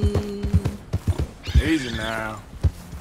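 Horse hooves clopping and a rising whinny in the video game Red Dead Redemption 2, a few close hoof thuds before and after a loud neigh, with someone speaking briefly over them.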